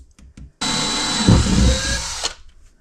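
A power drill bores into a battery box for a BMS setup, starting with a few short taps and then a loud, steady whine that runs for under two seconds before stopping abruptly.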